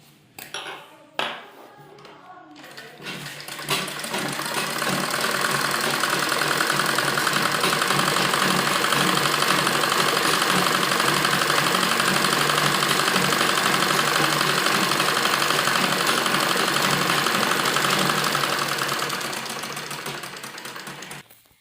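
A sewing machine runs continuously while stitching palazzo lining fabric, a steady close mechanical whir and rattle lasting most of the stretch after a few short starting taps, then easing off at the end, with no talk.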